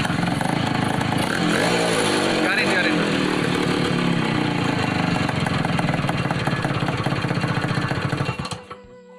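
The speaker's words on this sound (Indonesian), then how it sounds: "mari kita coba hidupan mesinnya" A Suzuki A100 motorcycle engine revving loud and close, a rough two-stroke buzz that holds steady for several seconds before cutting off near the end.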